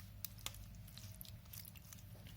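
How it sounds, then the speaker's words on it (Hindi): Cooked black currant berries are pressed through a strainer, giving soft, faint squishing and wet crunching sounds in an uneven rhythm with a few sharper clicks. "अब इसे प्रेस कर लेंगे बेरीज को, ताकि जो गूदा है वो नीचे निकल आए।"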